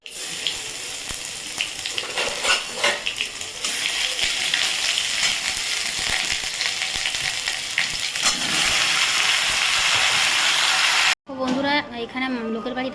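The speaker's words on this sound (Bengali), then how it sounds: "কড়াইয়ের মধ্যে ফোড়ন দিয়ে দিয়েছি এবারে টমেটোটা দিয়ে দেবো" Tomatoes hit hot oil with tempering spices in a kadai, giving a loud, steady sizzle that runs close and continuous, ending with a sudden cut and a brief tonal sound in the background.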